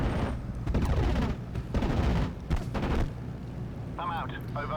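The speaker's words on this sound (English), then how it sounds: "That sent the 109 packing, and we're doing another strafing run." An aircraft strafing run in the World War II strategy game Steel Division: Normandy 44, heard as bursts of rapid gunfire and booming impacts under a man's speech, with a radio-style voice near the end.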